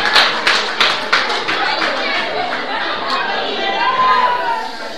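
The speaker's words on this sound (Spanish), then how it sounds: "Genial, aplausos, por favor. Aplausos." Audience applause for a high school student's singing performance, with scattered sharp claps early that blend into a steady crowd wash and chatter throughout.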